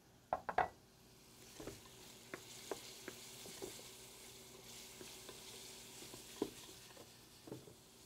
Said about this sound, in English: just enough to saute the lobster pieces around